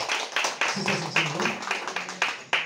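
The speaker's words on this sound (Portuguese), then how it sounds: "Aplauda o nome do Senhor" A church congregation in Povoado Barra de Santana, Piauí, claps in a steady, quick rhythm, with a voice speaking or singing over the beat partway through.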